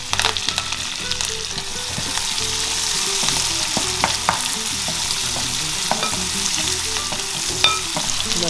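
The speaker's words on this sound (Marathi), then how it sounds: "आणि आपण कांदा आणि कढीपत्ता सोबतच टाकूया." Onion and curry leaves fry in hot oil with asafoetida and ginger-garlic paste, a steady close sizzle with scattered clinks and scrapes of stirring throughout, no voices.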